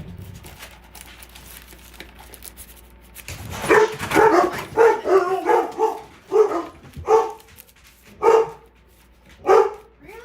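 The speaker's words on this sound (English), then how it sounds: "Dog's barking at the kittens, I guess." A dog barks repeatedly outdoors, a series of about seven loud, separate barks in an irregular rhythm after a few quiet seconds, with no talk over it.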